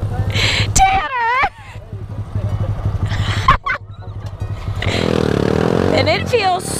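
A Grom motorcycle is ridden without a visor, its small exhaust revving and buzzing up and down with a blustery wind roar over the mic, and a loud voice talks over the engine and wind.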